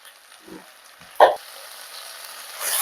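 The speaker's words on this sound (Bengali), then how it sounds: "মশলা দিয়ে এটাকে আমরা কষে নেবো আমি 2-3 মিনিট।" Ground spices, coriander and turmeric powder, fry in a pan for potato tomato pulao: a faint, soft sizzle with a sharp stirring clink midway, then a brighter hiss swelling near the end.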